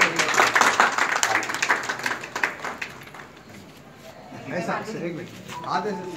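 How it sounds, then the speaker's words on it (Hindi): Applause from an audience at a motivational speech bursts out loudly at the start, then thins and fades into quieter room noise with some faint voices afterward. "जोरदार तालियां"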